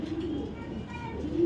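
A single racer pigeon, a red checker pied bird, gives a low, steady coo near at hand, with a hum beneath it and no clear talk.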